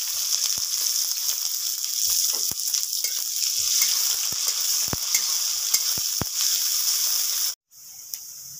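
Chopped onion fries in oil with Bengali five-spice for a fish curry. A steady bright hiss of frying carries sharp clicks from stirring, cuts out abruptly near the end, then resumes more quietly.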